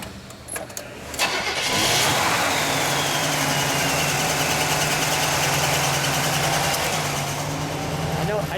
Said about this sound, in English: Let's turn it on real quick and we'll get a little exhaust now.